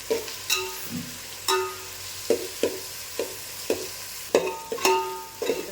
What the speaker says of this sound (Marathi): टोमॅटो इथे चांगला असा भाजून घेतलेला आहे